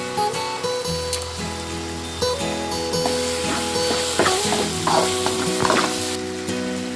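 Onion and garlic with ginger-garlic paste frying in a pan, a loud, continuous close sizzle with occasional crackles and stirring scrapes throughout.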